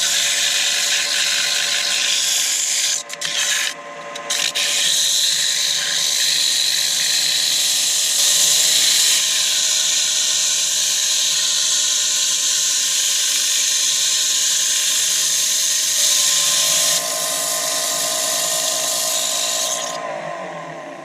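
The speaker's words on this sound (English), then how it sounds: "Give it a little sand up." An elm flower pot being sanded on a spinning wood lathe: a loud, steady high-pitched whine with a constant hiss of abrasive on wood, a couple of brief dips early on and a slight drop in pitch near the end.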